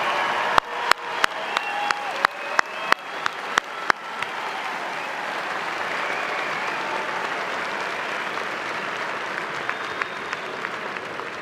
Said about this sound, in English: Let's give one last round of applause to our graduates, their families, friends, loved ones, faculty, and those who supported them.